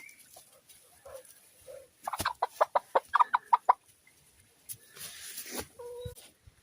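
Chicken clucking on a homestead while a wooden ladder is being built from a tree, a series of sharp short clucks in a quick burst close by, with quieter scattered rustling and soft bird calls before and after.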